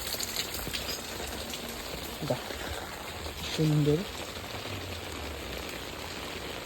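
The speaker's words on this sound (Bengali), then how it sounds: "বৃষ্টি পড়ছে।" Rain falls as a steady, even hiss throughout, with a brief spoken word partway through.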